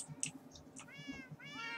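Several short meows from Minecraft cats come in quick bursts, fairly close and moderately loud, with faint clicking underneath.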